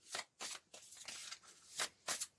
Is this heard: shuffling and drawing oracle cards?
yes